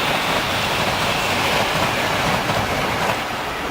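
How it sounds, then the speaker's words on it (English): A train rolls past on the rails in a dense, steady roar of wheels and cars, loud and close, with no voices. "Train."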